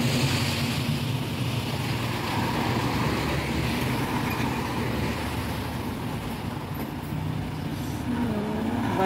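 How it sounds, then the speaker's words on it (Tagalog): A bus approaches along a road in the morning. A broad, steady roar of road noise and engine swell fills the whole stretch, fairly close, with no talk over it. "Bus is coming."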